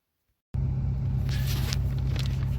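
Steady low engine and road rumble inside a moving car, loud and constant after a brief silence at the start, with faint rustling on top.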